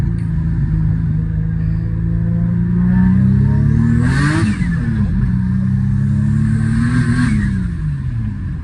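Turbocharged Infiniti G37 with a single turbo on E85 accelerating hard, a loud steady engine drone rising and falling through revs, with a hissing wastegate flutter bursting in twice over the engine noise.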